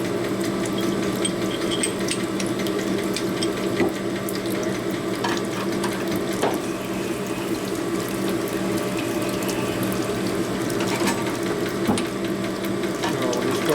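Silicon carbide stones hone the cylinders of a 1977 Harley XLCR motor with a constant busy whir, broken by gritty clicks and light rattling ticks, close and fairly loud, with no talking.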